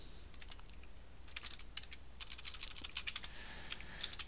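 Typing on a computer keyboard during a math lesson, bursts of crisp close key clicks in uneven rhythm, growing busier toward the end, alone without talk.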